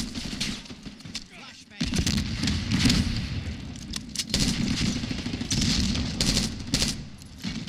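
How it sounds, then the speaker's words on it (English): A flashbang grenade going off during a Black Ops 6 multiplayer match, amid dense, loud bursts of rapid gunfire and booms that fill the clip, with game announcer voice lines. "Flashbang."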